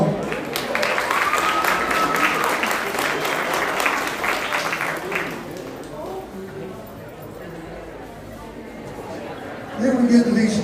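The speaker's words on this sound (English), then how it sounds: "Give them a round of applause." An audience at a market lamb show applauds, with a few seconds of steady clapping that then fades into murmuring voices and general show-barn background noise.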